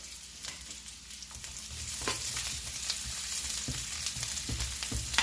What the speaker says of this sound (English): So now we're just going to put our onions in now.